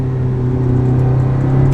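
Ferrari supercar engine humming at a steady low drone while cruising gently on a country road, a close, even tone with no hard acceleration and no voices.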